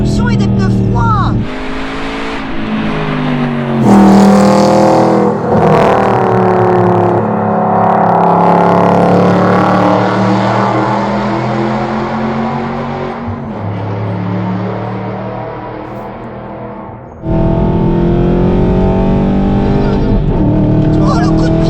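Aston Martin V8 Vantage with rear-wheel drive and cold tyres accelerates hard through the gears, a loud sustained engine roar rising and falling with shifts, with occasional talk from people inside the car.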